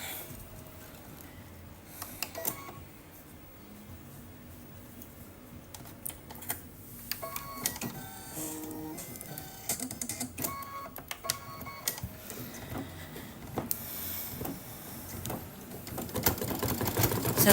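Embroidery machine stitching the center of a flower on a Kimberbell mug rug, a rapid mechanical clatter with rhythmic tapping and occasional whirring shifts, steady and close throughout.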